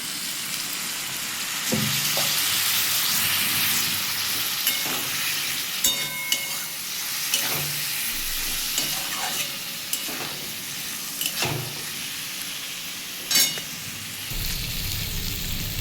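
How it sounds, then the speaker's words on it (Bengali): Radish cooking down with chilli powder, turmeric and a splash of water in a pan, giving a loud continuous sizzle broken by repeated scrapes and clinks of stirring, close up with no voices. "আমার মুলোটা কষা হয়ে গেছে"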